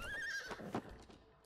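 A horse neighs in the video game It Takes Two, with a quiet, rising-then-falling whinny followed by a few soft hoof clops. No one talks over it.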